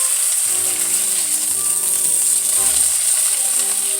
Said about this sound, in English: I'm using a flexible spatula to get up under there.